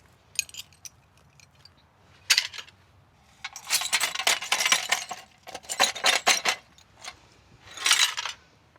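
Broken pane glass from a 1987 greenhouse damaged in Storm Claudia clinks and chinks close by as pieces are gathered, in repeated clattering bursts with short gaps between them.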